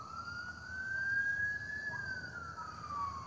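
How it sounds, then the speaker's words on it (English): A distant ambulance siren wails steadily, its tone rising and falling over a quiet hum of traffic. "there's an ambulance coming"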